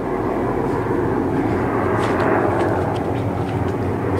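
Helicopters flying by overhead, a steady loud rotor and engine drone that holds constant, with no speech over it.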